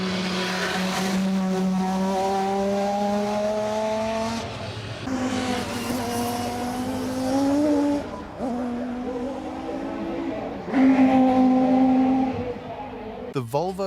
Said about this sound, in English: The Volvo's distinctive sound came courtesy of its TWR-developed, naturally aspirated 2-litre 5-cylinder engine